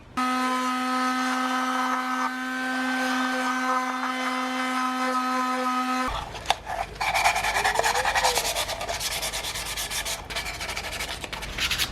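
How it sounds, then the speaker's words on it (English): Plywood deck box being hand sanded, a steady rough rubbing and scraping with a brief pause, preceded by a sustained humming tonal drone for the first several seconds. "now I'm hand sanding it"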